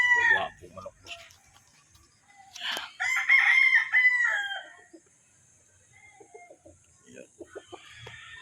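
Close, loud crowing from a Mount Banahaw bloodline gamefowl rooster at a breeding farm, one long call in the middle with shorter clucks and fowl noises around it, under a little background chatter.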